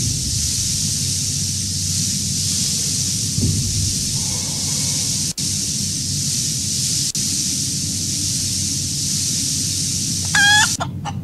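A chicken clucks in the video game Breathedge, set in space, with a short burst of squawks near the end over a steady hum of game ambience, plus a low thud partway through.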